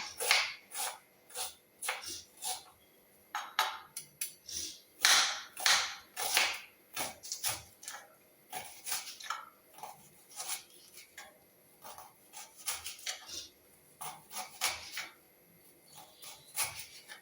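Onion and ginger are chopped finely with a knife on a board, giving close, crisp, irregular taps in quick clusters with short pauses between them.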